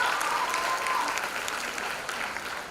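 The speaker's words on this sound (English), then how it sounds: "So a very, very big round of applause to the entire Schram Academy family" Sustained audience applause at a school annual day celebration for the Schram Academy, a dense, even wash of clapping from a full hall that holds steady throughout without fading.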